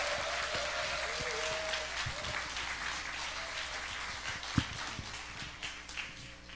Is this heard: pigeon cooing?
no